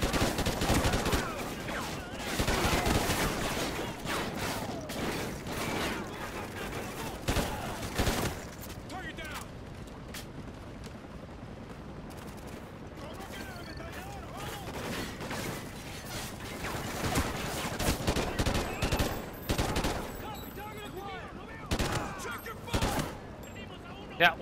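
Gunfire in the video game Call of Duty: Ghosts comes in repeated rapid bursts and scattered single shots, fairly quiet overall, with a player talking over the action.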